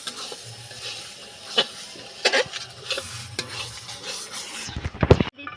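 Meat goes into a pot of sizzling ground coriander and cumin paste for biryani, with continuous frying hiss and repeated scraping stirs and clattering knocks, growing louder toward the end.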